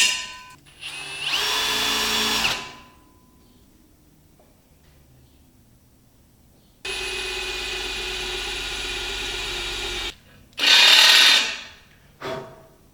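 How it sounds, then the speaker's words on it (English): An impact driver compresses an insert nut to set it into a table base, running in several loud bursts of whirring and rattling separated by quiet gaps, close by with a sharp final burst. "I'm going to use my impact driver to compress the insert nut to set it in"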